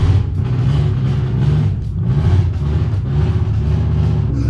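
Barn-find Mitsubishi Evo running low on fuel, its engine idling roughly with a lumpy, pulsing low rumble and uneven surges, loud and close.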